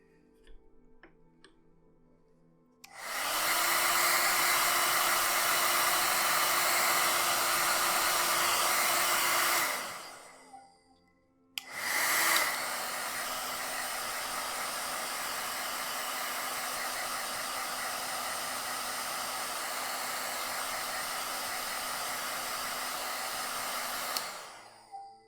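Hair dryer blowing on a sculpted clay mushroom, a steady loud whoosh for about seven seconds, a brief pause, then a second long continuous run of the same close airflow.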